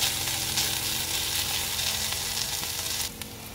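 Chopped onion fries in hot oil in a pan, a loud steady sizzle with light stirring that drops in level near the end.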